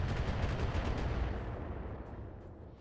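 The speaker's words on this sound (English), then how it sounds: "They're going to start firing their LRMs" LRM missiles fire in the BattleTech video game as a rapid string of loud, rumbling launches, the blasts thick at first, then thinning and fading into a decaying rumble.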